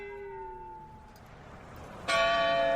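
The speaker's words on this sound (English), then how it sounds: "That beautiful sound you're hearing is Christchurch's tower bell, toning out the time of day." The Christchurch tower bell tolls the hour with rich, sustained ringing tones, a fading strike followed by a fresh loud stroke near the end, resonant and clear.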